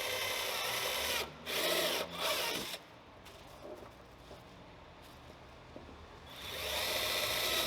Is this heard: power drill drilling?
yes